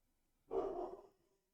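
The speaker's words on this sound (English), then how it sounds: "You hear my dog? Is he barking?" A pet dog gives a single short, muffled bark or woof nearby, a brief burst lasting under a second, with quiet surroundings before and after.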